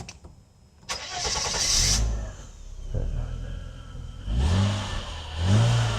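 A Mercedes-Benz W126 300SEL engine, just repaired after a faulty fuel distributor, cranks and catches, revs up, then settles into a steady running drone with another rev near the end, close by.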